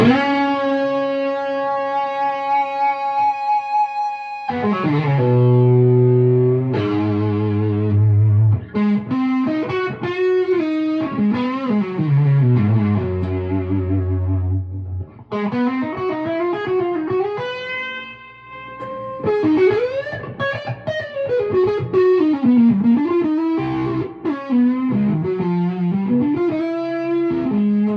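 An electric guitar played through overdrive sounds gritty and sustained, alternating held notes and chords with bent, sliding lines, loud and close with no talking.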